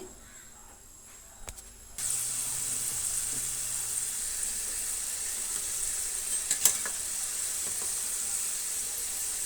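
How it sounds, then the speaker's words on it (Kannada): Karjikaya, crisp sweet stuffed dumplings, go into hot oil for deep frying; after a few quiet seconds a loud, steady sizzle starts and holds evenly, close up, with a faint tap of a utensil partway through. "ಈ ರೀತಿ ಲಟ್ಟಿಸ್ಕೊಂಡು ನಾವು ಡೀಪ್ ಫ್ರೈ ಮಾಡ್ಕೊಳ್ಳೋಣ"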